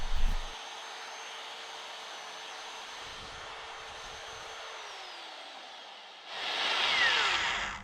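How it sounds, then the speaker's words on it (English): Annular cutter on a magnetic drill boring through 6mm steel plate, a steady close whining buzz that sags slightly in pitch before a louder, harsher burst near the end; someone speaks briefly. "What I've done is I've centered the annular cutter and then turn the magnet on, so I should be pretty good with buzzing down there."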